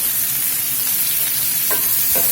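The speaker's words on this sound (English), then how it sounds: "We're just going to let all this roast up here until stuff softens up and gets some good color" Vegetables for roasted salsa verde roasting in a hot pan, a constant loud sizzle close by, broken by a couple of brief scrapes as they shift.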